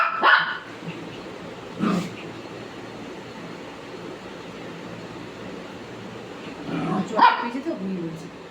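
A dog barks at a cat in a few scattered bursts, one at the start, one near two seconds and a cluster near the end, over steady background hiss. A person talks throughout.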